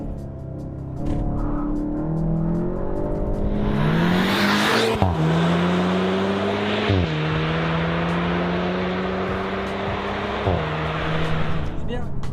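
A front-wheel-drive Golf GTI TCR in ESC Sport mode pulls hard from close by, its engine note climbing through several gear changes while the tyres squeal and spin under sustained loud acceleration.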